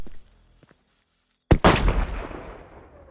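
Fireworks going off in the video game Fireworks Mania: after a near-silent pause, one sharp, loud bang and a second quick crack, followed by a long rumbling decay that fades over about a second and a half.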